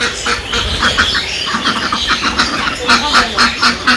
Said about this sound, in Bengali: এখন হাঁস ঘরে দিব